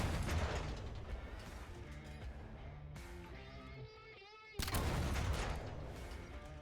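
Mechanical gunfire from the video game SAND: Raiders of Sophie aimed at a mech's legs: rattling, ratchet-like bursts of shots, loud at the start, easing off in the middle, then returning strongly, under occasional talk.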